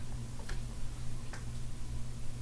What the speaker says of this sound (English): Who is knocking on my ceiling?